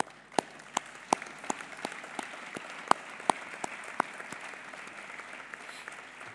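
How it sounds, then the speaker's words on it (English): An audience at a parliamentary autumn meeting in Bishkek claps in applause, a moderate steady patter with a few sharper individual claps standing out, heard from a distance without voices over it. "Let us all give them once again a warm round of applause"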